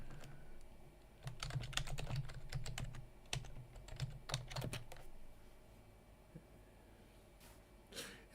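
Typing on a computer keyboard during a live stream, quiet rapid clicking keystrokes in an irregular burst that thins out into scattered taps, over a low steady hum, with no talking.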